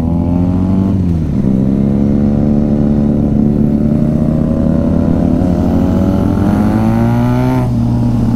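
A motorcycle engine revs loud and close on a Sunday group ride, the throttle eased off briefly and then pulled hard again, holding a steady roaring drone that rises in pitch near the end.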